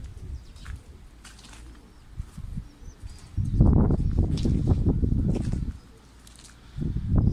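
Pigeons come in to land on open ground, with loud bursts of close wing flapping and faint chirps and coos between the flurries.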